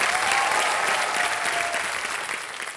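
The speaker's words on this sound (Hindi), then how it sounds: "ताली बज जाए इनके लिए" Studio audience on the Kaun Banega Crorepati set bursts into steady, dense applause, a close wash of clapping that holds for the whole stretch and tapers slightly at the end, with no talking over it.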